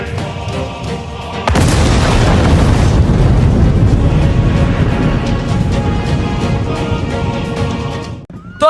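Bomb blast explosion effect in a Bangla army drama, a sudden loud blast after a quieter opening, then a long sustained roaring rumble that slowly fades before a brief final burst.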